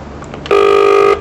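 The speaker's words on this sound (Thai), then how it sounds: "เสียงนี่เสียงโทรศัพท์สแตนบายนะ" A phone gives its standby tone, a single loud steady electronic beep lasting about half a second, clear and close, following a brief stretch of quiet room noise.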